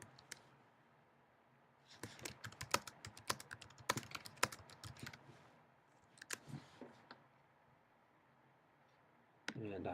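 Typing on a computer keyboard in irregular bursts of quiet close key clicks with pauses between, followed by a louder rustle at the end.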